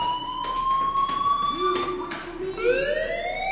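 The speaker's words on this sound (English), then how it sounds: "Hey, do you hear that fire alarm?" A fire alarm in the video game Life is Strange sounds a steady, piercing electronic tone that drops and then rises in pitch. It stays loud and continuous throughout the short stretch, over a faint background.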